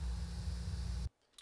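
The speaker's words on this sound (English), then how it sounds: "This is the sound of the room." Steady low hum and hiss of a quiet indoor room's ambient tone, continuous and even, then cutting abruptly to near silence near the end.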